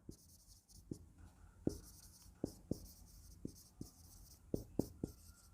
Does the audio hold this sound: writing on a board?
yes